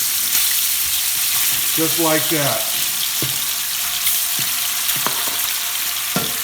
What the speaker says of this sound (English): the oil in the bottom of the pan is hot, so we're just gonna dump in this chicken and start browning it